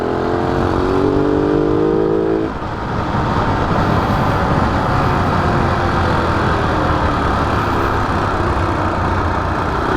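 Motorcycle fitted with a stock exhaust pipe and an elbow, its engine running loudly and steadily for the whole stretch, with a brief pitch change early on and a continuous roar after that.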